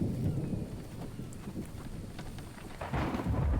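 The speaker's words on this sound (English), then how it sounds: "Glad to see it's rain and not a blizzard" Steady rain in the survival video game The Infected, a dense continuous patter with low rumbling underneath, fairly loud and unbroken, with no talking.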